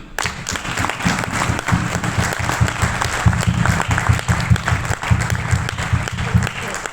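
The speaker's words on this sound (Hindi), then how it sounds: "सर मेरे हिसाब से इस आदमी के तालियां होनी चाहिए।" An audience claps steadily and loudly for about seven seconds at a Kangen Water event, a continuous wash of hands with faint crowd noise underneath.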